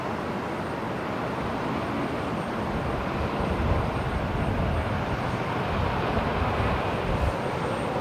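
A Jetstar Airbus A321neo touches down on runway 01 right at Brisbane Airport at night, heard from a distance as a steady, broad jet roar that swells slightly in the middle.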